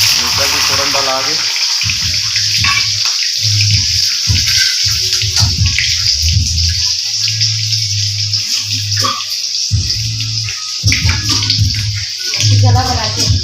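Spices for tempering tossed into hot oil while cooking cauliflower bhaji in a home kitchen, a steady hissing sizzle running the whole time with low voices talking underneath.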